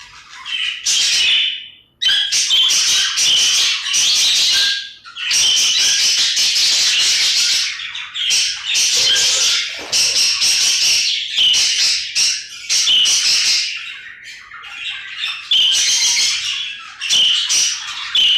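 A flock of small parakeets squawks and chirps constantly, dense overlapping calls with brief pauses, close and loud.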